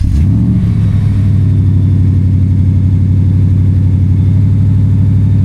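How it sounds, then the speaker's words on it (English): A deep, steady engine exhaust rumble from a Ram TRX or Ford F-150 Raptor R pickup truck, loud and close, holding a throaty low drone with a brief rev at the start. "I think the exhaust tone sounds really good."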